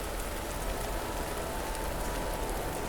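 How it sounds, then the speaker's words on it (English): Gentle, steady rain falls on cobblestones along an empty medieval market street, an even, continuous hiss of drops with no pauses. "a thin veil of rain that falls like a soft curtain over the cobblestones"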